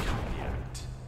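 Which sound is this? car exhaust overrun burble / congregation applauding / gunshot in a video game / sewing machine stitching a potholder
gunshot in a video game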